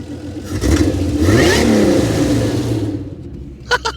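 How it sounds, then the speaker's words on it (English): A supercharged 3800 V6 with custom headers, in a five-speed Pontiac Fiero, revs up and falls back in one loud, close rise and fall, then settles to idle with a few clicks at the end. "I'm gonna give it a little rev right here."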